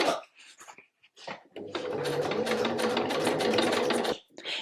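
A sewing machine runs in a sustained burst of rapid, rhythmic stitching, stitching a robin design onto a card, starting after a few brief taps and stopping abruptly, close and clear.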